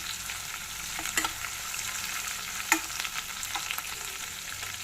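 Finely chopped green chilli and onions for upma fry in a pan, a steady broadband sizzle with a few sharp clicks of the spatula stirring, close and moderately loud with no talking.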